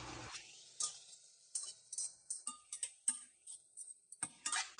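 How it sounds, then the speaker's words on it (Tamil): Colored capsicum being sautéed with onion in a pan for pav bhaji, a soft sizzle under repeated clinks and scrapes of a stirring spoon against the pan, irregular and close. "நான் வந்து இப்போ வந்து கேப்சிகம் போடுறேன். கலர்டு கேப்சிகம் வாங்கியிருக்கேன்,"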